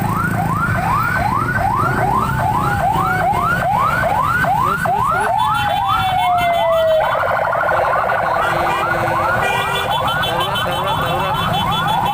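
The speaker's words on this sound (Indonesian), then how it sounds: "Nah, ini ada ambulan juga guys." A wailing ambulance siren cycles rapidly up and down, loud and close, over traffic rumble at a labor demonstration in Cianjur, Indonesia, with a second steady siren tone joining partway.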